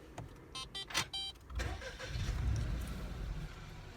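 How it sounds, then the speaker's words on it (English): An adapted car for a driver with a disability starts from its push-button ignition: a few short electronic beeps, then the engine catches and settles into a steady, close, moderately loud running hum. "So the car is now turned on"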